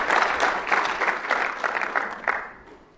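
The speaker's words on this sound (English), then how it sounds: "Give him a round of applause." Short applause from a conference audience welcoming a speaker on Bluetooth keyboard security, a moderate burst of many hands clapping that fades out within a few seconds.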